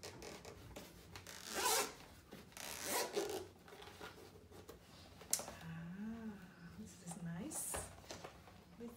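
A zipper is drawn open on a pink-and-gold medical equipment case with two zips, the rasping pulls coming in several strokes close up while a person talks.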